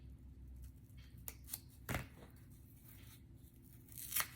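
Scissors snip craft paper for a spring bunny craft, a handful of brief, quiet cuts spaced irregularly against a soft room background.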